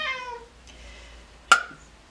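A cat meows close by, one clear cry at the start, then quiet until a sudden sharp loud burst near the end.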